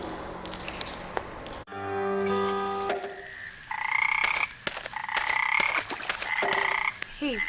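Frogs in a lake in the video game Memoranda give a run of loud, nearby croaks, repeated, bubbly calls following one another closely over a quiet ambient backdrop.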